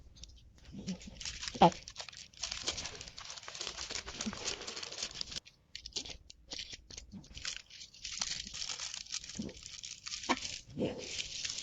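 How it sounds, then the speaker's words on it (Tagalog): Parchment paper is folded and wrapped around no-bake chewy graham bars, giving close, dry crinkling and rustling in uneven bursts with a few brief pauses and soft handling knocks. "Ibalot lang natin sa parchment paper para hindi mag-dry."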